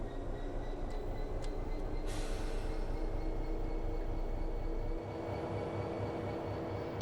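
Freight train in Train Sim World 4 hauling 24 empty BBA steel wagons at Peterborough station, a steady low rumble and drone throughout, loud and close, with a brief hiss and higher tones, dropping slightly in level near the end.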